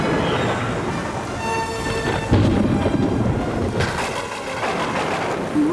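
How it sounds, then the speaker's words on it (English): Thunder from an approaching storm rolls over a steady wash of rain and wind, with deep rumbles swelling and fading loudly throughout. "We're going to have a storm."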